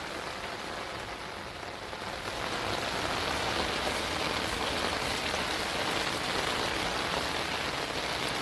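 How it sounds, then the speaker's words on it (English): Heavy rain pours steadily over a yard with a French drain, a dense broadband hiss that swells stronger after the first couple of seconds and stays constant, with no talking. "It's literally raining hard."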